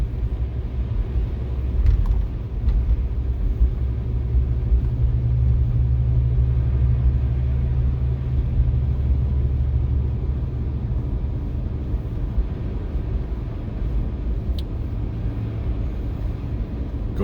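A car drives at night on a wintry road, its steady low engine and tire rumble continuous and fairly loud throughout, with a faint brief tick near the start and no talking.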